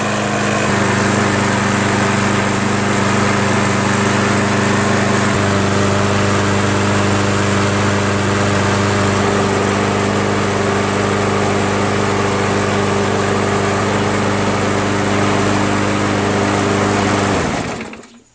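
A Yard Machines 190cc 21-inch push lawn mower engine runs steadily at close range for about seventeen seconds, a loud continuous small-engine drone that shifts pitch slightly partway through before cutting off abruptly at the end.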